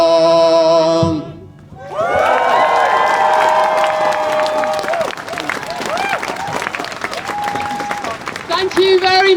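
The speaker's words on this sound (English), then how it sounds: "And we need another cheer for Billy" Crowd cheering and applauding at a union strike rally after a singalong, a loud sustained roar of claps and shouts that holds for several seconds and swells again near the end.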